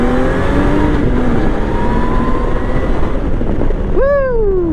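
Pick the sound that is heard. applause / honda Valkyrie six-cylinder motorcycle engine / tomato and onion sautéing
honda Valkyrie six-cylinder motorcycle engine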